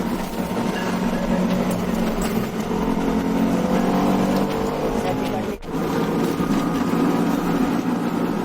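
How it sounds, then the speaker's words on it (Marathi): An auto rickshaw carrying passengers drives along the Harkul–Kanedi road, its engine giving a steady, close drone with one brief dip midway; voices talk faintly over it. "आता रिक्षा फोंड्यातून निघाली आहे घरी आणि स्वतः मालक चालवत आहेत"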